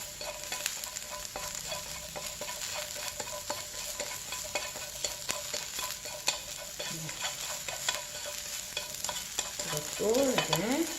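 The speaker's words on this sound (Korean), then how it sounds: "팬이 좀 달궈졌네 하면 팬을 이렇게 들어주시면 됩니다." Sliced bellflower root (doraji) stir-fries in a hot pan for bibimbap, with a steady soft sizzle and the scrape of a utensil stirring through it, and no talking.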